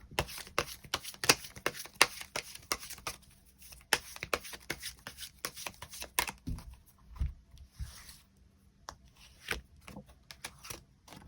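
Tarot cards being shuffled and drawn at a table, a quick run of crisp, close snaps and riffles with short pauses, soft and alone without talk.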